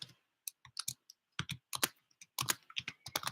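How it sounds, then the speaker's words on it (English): Typing on a computer keyboard, with bursts of quick, crisp key clicks in irregular clusters separated by short pauses, close up and alone with no talking. "I am typing into the chat"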